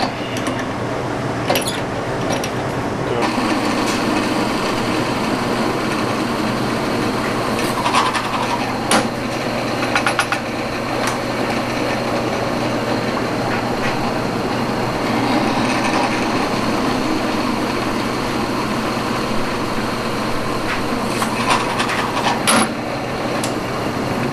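Grinder running steadily while a chamfer is ground onto a micarta knife handle, a continuous whirring hum with occasional sharper scraping bursts, loud and close throughout.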